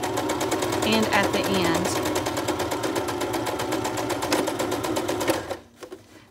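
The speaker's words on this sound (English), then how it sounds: "And then we're going to stitch. And I am back stitching at the beginning" A sewing machine runs steadily while back stitching a shabby chic junk journal cover, a fast even mechanical rattle that continues for several seconds before stopping, with a voice speaking briefly over it.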